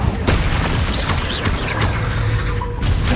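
Explosive Confringo spell blasts and combat effects from the video game Hogwarts Legacy, loud booming impacts over a steady rumbling game soundscape across the short stretch.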